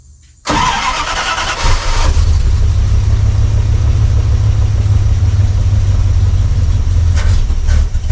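An old vehicle engine with a freshly connected battery cranks briefly and fires, then settles into a loud, steady idle that rumbles close by. No one speaks.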